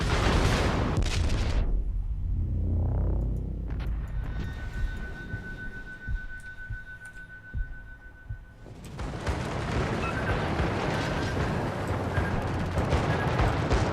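Naval combat in a warship video game featuring the cruiser Duca D'aosta, with heavy booming gunfire and explosions, a loud opening burst fading into a quieter rumbling stretch, then a long sustained barrage roaring back.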